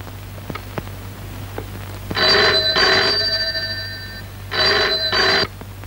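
A telephone bell rings indoors in a Kannada film scene, two clear double bursts of ringing, loud and close, with quiet pauses between and no talk over it.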